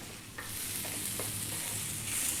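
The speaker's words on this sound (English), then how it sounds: "What we're going to do is stay on this high heat, stirring all the time now, about 4 minutes" Eggplant frying in oil over high heat, stirred constantly in a pan for an eggplant tomato pasta: a steady broadband sizzle with a few light utensil scrapes and taps, close and continuous, no talking.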